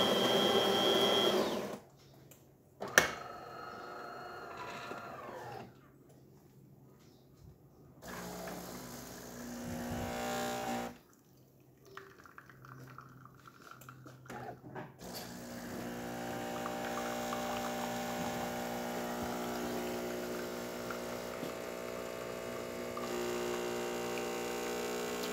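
A DeLonghi Prima Donna Exclusive espresso machine pulls a test shot, a steady motorized hum and pump drone broken by short grinding and clicking bursts, then settling into a continuous buzzing whir for the last ten seconds.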